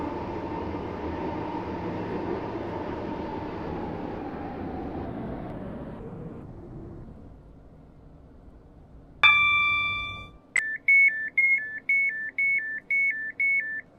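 Roblox Stepford County Railway train of three coaches slowing to a stop, its rumble fading out, then a short ding and a rhythmic repeating two-tone beeping chime as the doors signal.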